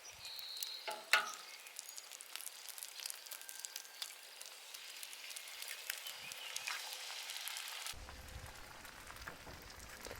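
Frozen supermarket hash browns fry in a pan at an outdoor camp cook, a faint close sizzle with a few clinks and stirring scrapes, then a fuller, louder hiss near the end.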